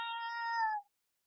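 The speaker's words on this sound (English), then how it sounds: "That's my cat." A cat meows once in the background, a clear, drawn-out call that rises slightly and then cuts off, leaving silence.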